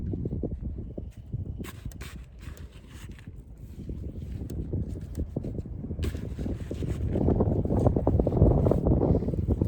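Gusty wind buffeting the microphone outdoors in a garden, low rumbling blasts that rise and fall, growing stronger and more continuous toward the end.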